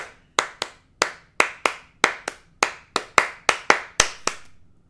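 A choir's hand clapping beats out a syncopated rhythm pattern of about fifteen sharp, close claps in uneven groupings, each crisp and loud. No voices are heard.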